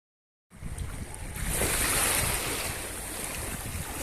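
Surf washes onto a beach in the Philippines with a broad, rushing roar mixed with wind buffeting the microphone, starting abruptly after a brief silence and surging louder midway; no talking.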